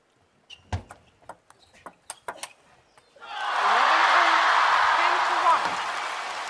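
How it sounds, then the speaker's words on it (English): A live crowd at a table tennis match in Chongqing, at the WTT Champions men's singles quarterfinal, bursts into loud sustained cheering and applause after a few sharp ball and footstep clicks. "And the Chongqing crowd react."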